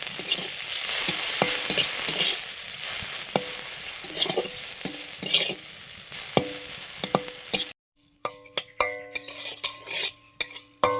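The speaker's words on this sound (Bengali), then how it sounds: "এই যে শব্দটা ঝমঝম করে শব্দ হচ্ছে, এরকম করেই ভেজেছি।" Neem flowers frying in hot mustard oil, a close crackling sizzle with frequent clinks and scrapes of a utensil against the pan, then a short silence before sparser clatter and tonal kitchen sounds.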